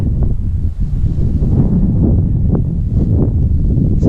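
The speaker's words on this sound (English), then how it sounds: "The wind is pretty straight." Wind buffets a paraglider in flight over Western Australia, a constant low rushing and flutter close to the microphone, steady and fairly loud throughout.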